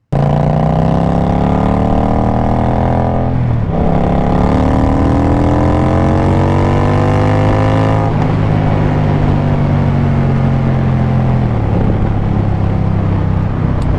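Indian Bobber motorcycle engine under way, a loud, close drone that climbs in pitch through each gear, drops at the shifts, and rises again, with wind rush behind it.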